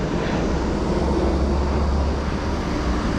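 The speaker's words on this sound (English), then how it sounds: "Airplane" A steady low roar of an airplane overhead in Beijing, continuous and fairly distant, blended with wind rumble in harsh weather, and no talking.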